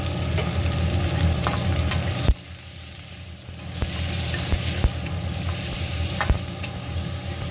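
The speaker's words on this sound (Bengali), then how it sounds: "পেঁয়াজটা এবং ফোড়নটা রাঁধুনি ফোড়নটা আমি হালকা ব্রাউন করে ভেজে নেব" Onion and radhuni spice fry in hot oil with a little salt and turmeric, making a steady close sizzle and crackle, with a few sharp clanks of a spoon against the pan and no talking.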